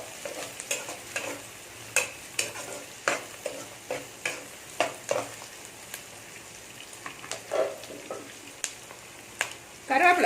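Onion, ginger, garlic and green chilli sauté in a pan, hissing steadily under regular scraping stir strokes close by, with a spoon clinking against the pan.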